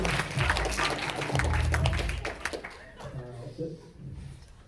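At a university stage hypnosis comedy show, a crowd claps briefly over a low hum. The applause fades after about three seconds, and only quieter scattered sounds remain.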